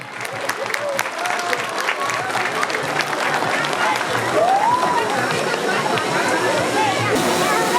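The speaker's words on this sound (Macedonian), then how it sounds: "Аплауз за првиот човек на општина Василево." A crowd applauds the mayor of Vasilevo municipality at the 2023 Leek Day festival, with sustained clapping that grows slightly louder and mixes with crowd noise and voices.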